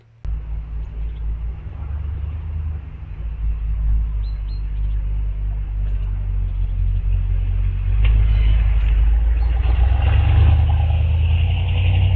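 A 1972 Corvette C3 engine is cranked and fires up after fresh fuel goes into the empty tank, then settles into a loud, close, steady rumbling idle that grows fuller and rougher toward the end.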